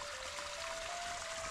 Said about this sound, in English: lovely little bubbling brook